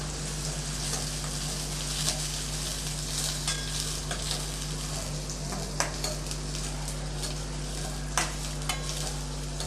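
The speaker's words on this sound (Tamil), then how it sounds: "இதில் ஒரு பெரிய வெங்காயம் பொடியாக கட் பண்ணி வச்சுருக்கேன் அதை சேர்த்துடலாம் நல்லா வதக்கி விட்டுக்கலாம்" Chopped onion sautéing in hot oil with mustard seeds in a pan, a steady close sizzle with scattered crackles and pops throughout, no talking.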